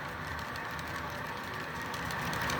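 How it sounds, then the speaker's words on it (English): A steady mechanical rumble and whir of a roughly 75-car model coal train with mid-train DPUs running continuously, moderately loud with no voices. "My coal train is about 75 cars with mid-train DPUs."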